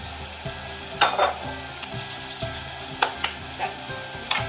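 Flour-coated meat for Irish stew cooking in a pot, a steady close sizzle with several louder crackling bursts and stirring scrapes, no talking.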